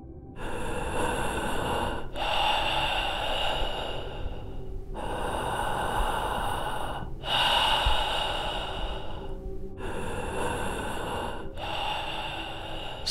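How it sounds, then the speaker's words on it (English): Heavy, slow breathing close by, with long hissing inhales and exhales repeating in a steady rhythm, loud and raspy with no talking. "Someone was breathing"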